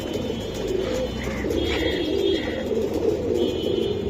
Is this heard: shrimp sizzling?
no